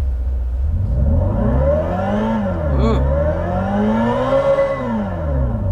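A Hyundai Ioniq 5N electric car playing a synthetic engine sound as it is revved: loud rising and falling engine-like swells close by, with a faint voice briefly in the background.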